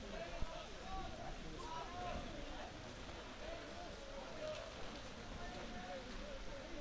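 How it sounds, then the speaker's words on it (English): Heavy rain pours steadily at a schoolboy rugby match between Rondebosch and Paarl, a dense continuous hiss of drops drumming on surfaces and stands, with a commentator talking over it. "the rain has decided to really come. In fact, it's very rudely coming under the stands"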